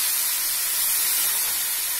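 Water splashed into a hot pan of frying ground spices, setting off a loud, close, continuous sizzling hiss that fills the whole short moment without any voices.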